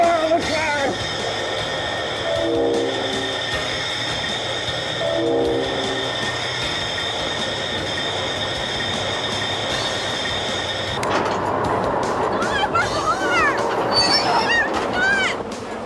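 A train rumbles past on the tracks with a steady roll of wheels and sustained horn blasts, and squealing wheels rise near the end; voices talk over it at times.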